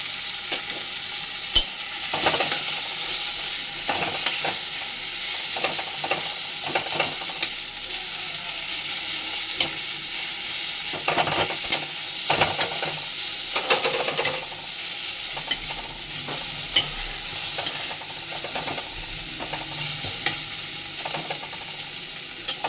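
One and a half to two large sliced onions fry in a pan for prawn kosha, a constant close sizzle broken by repeated clinks and scrapes of stirring, no voices.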